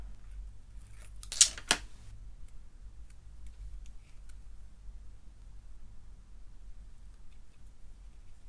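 Scissors cutting a piece of material in half, a quick pair of sharp snips close by, followed by quiet room tone.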